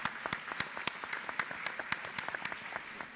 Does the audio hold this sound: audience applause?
yes